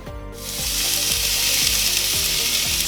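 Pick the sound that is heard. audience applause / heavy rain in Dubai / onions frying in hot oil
onions frying in hot oil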